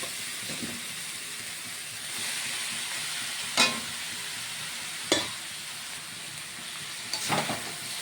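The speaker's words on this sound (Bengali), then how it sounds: "সুন্দর করে নাড়াচাড়া করে সুন্দর করে কষিয়ে নেব" Boiled, drained peas stirred into oil with fried ginger-garlic paste in a pan for a Bengali curry; a steady close sizzle runs throughout, broken by a few sharp spoon knocks against the pan.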